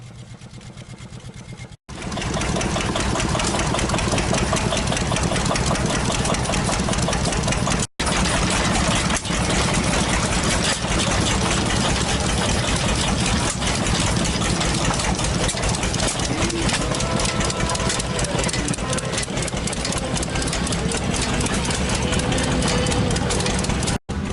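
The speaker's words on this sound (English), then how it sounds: "There are a lot of old trucks and vintage gasoline engines lined up next to each other." Vintage gasoline engines run at a railroad festival display beside old trucks, a loud, steady idling chug with a fine rapid knocking rhythm that continues unbroken, briefly cut twice.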